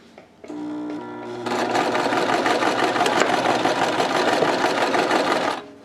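A sewing machine stitches a strap onto a fabric bag: a quiet start, then a steady loud mechanical whirring run of rapid needle strokes lasting several seconds before it stops abruptly, with no talking.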